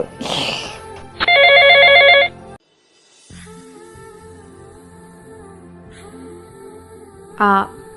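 A telephone bell rings in two bursts, a loud sustained trill early on and a short one near the end, with room sounds and quiet movement between.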